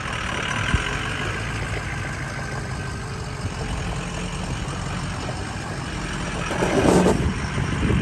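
A truck engine idles steadily for about eight seconds, with a low continuous rumble that swells briefly near the end as it is moved around a shop. A diesel Ford 6.0 Powerstroke with a temporary exhaust is a possible source.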